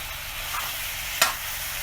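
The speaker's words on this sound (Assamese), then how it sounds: "হালধি দিয়াৰ পিছত হেতাৰে ঘনাই লৰাই থাকিব লাগিব" Goat meat with turmeric is stirred in a pan with a spatula over a village-style fire, giving a short burst of close sizzling with a sharp scrape and clatter partway through.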